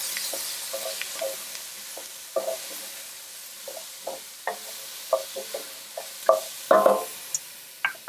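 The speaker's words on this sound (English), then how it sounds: "And some chopped celery. Very, very small. We're just going to saute this for a few minutes." Very finely chopped celery sautéing in a pan while being stirred, with a steady light sizzle and a series of irregular spoon scrapes and taps that grow a little louder and closer together toward the end.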